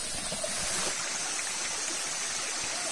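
A river flows near Curug Cilengkrang waterfall, its steady, dense rush of water constant and fairly loud, with no voices.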